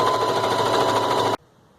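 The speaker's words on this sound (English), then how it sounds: "I just happen to have a sewing machine sitting here" A sewing machine runs steadily and loudly while stitching down a fabric edge lengthwise for a scrunchie, its fast mechanical whir stopping abruptly just over a second in and leaving near silence.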